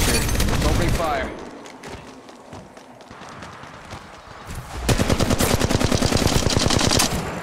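Gunfire in Apex Legends Mobile, a loud burst of rapid shots at the start, then a quieter stretch with in-game voice chatter, followed by a long fast rattling volley near the end.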